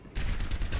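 A short, loud burst of rapid weapon fire in the Overwatch 3v3 match, starting abruptly and continuing through the brief moment.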